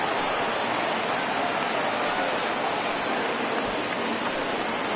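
Steady rain pours down on an outdoor major league baseball field during a Baltimore Orioles game, a dense, even hiss that holds at the same loudness throughout with no break.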